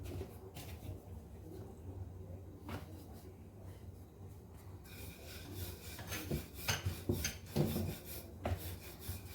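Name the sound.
rolling out cauliflower paratha dough with a rolling pin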